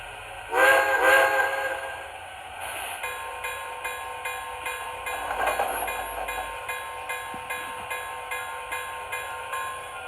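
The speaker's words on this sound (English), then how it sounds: "The conductor's giving us the highball signal." An MTH Railking Blue Comet model train sounds its whistle for a highball signal: a loud two-blast steam whistle up close, then a steady rhythmic chuffing with hissing steam.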